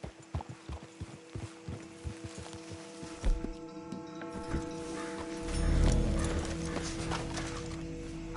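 Horse hooves clip-clop in Red Dead Redemption 2, a run of close, steady hoofbeats for the first few seconds. They are followed by a louder, rumbling passage and a few scattered steps toward the end.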